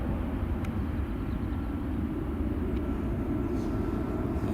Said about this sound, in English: That's the EasyJet just lined up now as well.